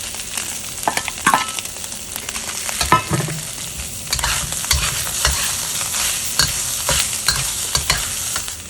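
Mushrooms and scallions stir-fried in a wok with bacon fat, giving a steady sizzle broken by repeated scraping and tossing of the spatula, close and fairly loud.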